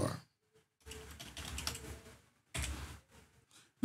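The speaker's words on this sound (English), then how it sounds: "type download SQL" A computer keyboard being typed on in short bursts of quick close keystrokes, with brief pauses between the flurries and no talking.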